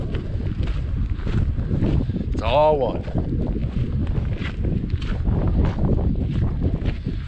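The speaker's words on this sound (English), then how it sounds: "It's very windy up here." Heavy wind roars and buffets against the microphone throughout, loud and gusty, at Sawtooth Lake in the Sawtooth Wilderness near Stanley, Idaho, while a person briefly speaks partway through.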